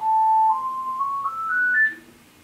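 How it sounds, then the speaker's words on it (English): A house phone rings indoors with a bright electronic tone that rises in steps, clear and fairly loud, then stops, with nobody speaking over it. "Sorry, that's the house phone."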